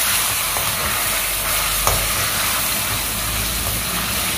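Ginger garlic paste frying in a pan while cooking a tomato chicken curry gives a steady, dense sizzle that holds evenly for several seconds, with no talking.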